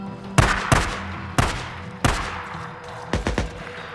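Gunfire in the video game Days Gone, several sharp close shots in uneven bursts: two quick blasts, a pause, two more single shots, then a rapid cluster of three near the end.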